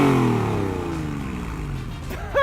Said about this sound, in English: this is what an old, naturally aspirated flat six sounds like